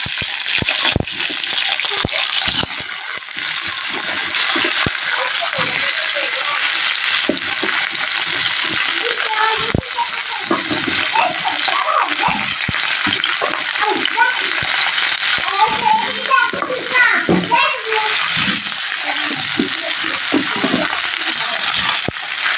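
Vegetables sizzle and crackle steadily in hot oil for a vegetable biryani, with intermittent scraping and clinking as they are stirred in the pan; a voice speaks briefly over the frying.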